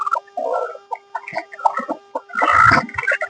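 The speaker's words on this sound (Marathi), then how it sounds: "हे बघा परत ह्या कोंबड्या पण अंडी देण्यासाठी बसल्या यामध्ये." Native village hens in a poultry shed, sitting to lay eggs, cluck in a close series of short bursts, ending in a louder, harsher squawk.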